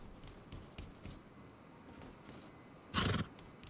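A horse in the console game Rust lets out one short, loud neigh near the end, standing out from quiet background noise and a few soft thuds like hoofsteps.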